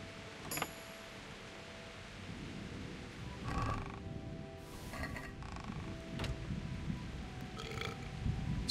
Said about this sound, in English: Stifle your burps, Henry.